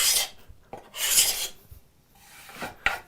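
A card scraper shaves wood into curls in a few rasping strokes, each a close, dry scrape separated by short pauses, ending with a sharp final pass; no one speaks.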